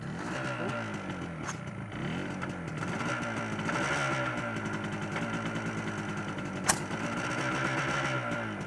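Yamaha RD400 two-stroke motorcycle engine idling steadily outdoors on a wet day during a first run, a continuous uneven burble with a misfiring cylinder and one brief sharp click partway through.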